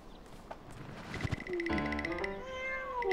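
A plump house cat meows close by in one long, wavering cry that rises and falls, growing loud after a quiet start, with no talk over it.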